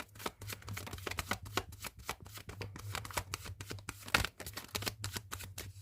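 Tarot cards are shuffled close up in quick, irregular riffling bursts, a soft papery flutter repeated over several seconds with a low hum beneath and no speech.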